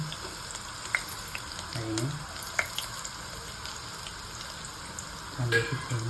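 Onion frying in hot oil in a home kitchen for a spicy crab curry, a steady soft sizzle with occasional stirring clinks and a louder burst of frying near the end.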